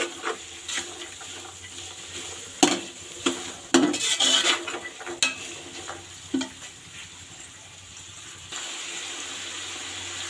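Peas for chicken fried rice are stir-fried in a pan, with clattering spatula strikes and scrapes over a soft sizzle, busy at first and settling into steady frying noise.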